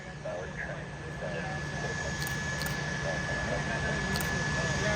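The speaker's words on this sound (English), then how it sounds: "British 222 had just touched down on runway 27 left" A British Airways airliner touching down on runway 27 left at Atlanta airport, a steady, broad jet engine roar heard from a distance, holding evenly throughout.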